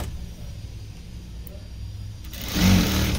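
Sewing machine running a straight stitch at stitch setting 5 along a blouse sleeve folded half an inch and then one inch; a steady low motor whir that grows louder and busier near the end.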